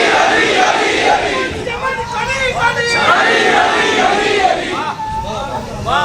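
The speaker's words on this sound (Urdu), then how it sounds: "نعرے تکبیر، نعرے رسالت، نعرے حیدری، نعرے حیدری" At a religious gathering honoring Imam Hasan, a large crowd answers Nara-e-Takbeer and related slogans with loud, sustained, overlapping shouted chanting that fills the whole stretch.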